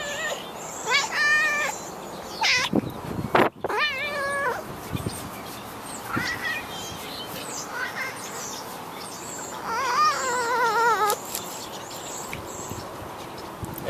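A cat meows repeatedly, several drawn-out, wavering cries spaced apart, close and fairly loud, with brief quiet gaps and a sharp knock between them.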